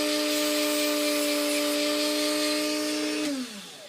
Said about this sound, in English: I just hold it to the wheel and I just roll it with my fingers